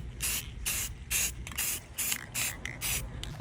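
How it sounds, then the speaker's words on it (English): An aerosol can sprays paint onto clay snake decorations in about seven short, even hissing bursts, close and clear with no talking. "We are going to let it fully cool and we're gonna spray paint them."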